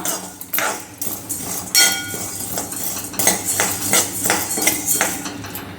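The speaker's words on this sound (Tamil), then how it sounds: "சூட்டிலே இது ரெண்டையும் நம்ம வறுத்தாலே போதும் ரொம்ப வறுக்க வேண்டாம்" A spatula scrapes and clinks against a hot kadai as black pepper and cumin are dry-roasted on a switched-off stove, with repeated close metallic strokes and rattles throughout.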